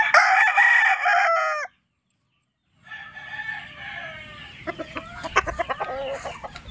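A pure Joe Black gamefowl rooster with a straight comb crows loudly and close by, then falls briefly silent before softer clucks and other bird sounds follow in a farm setting.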